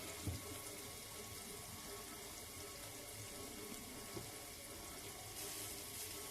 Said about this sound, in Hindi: तो इसके ऊपर हम थोड़ा सा ऑयल डालेंगे